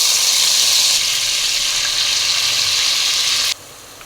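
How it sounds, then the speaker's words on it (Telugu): Ginger garlic paste sizzles loudly in hot oil for a chicken and cauliflower curry, a steady bright frying hiss that eases slightly partway through and then drops off sharply near the end. "ముందుగా మిక్సీ వేసుకున్న అల్లం వెల్లుల్లిపాయ పేస్ట్ అయితే యాడ్ చేసుకున్నాం"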